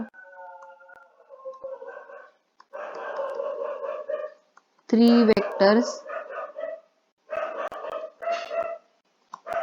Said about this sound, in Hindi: आपको कुत्तों की भौंकने की आवाज आ रही